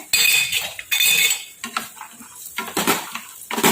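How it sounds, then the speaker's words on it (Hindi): Peanuts tumble into hot oil in a pan in a few sharp bursts, giving bright clattering and clinking against the metal with short gaps between pours and no voices. "ऑयल हमारा गर्म हो जाए तो उसमें हमें जो मूंगफली के दाने लिए हैं वो डाल देने हैं"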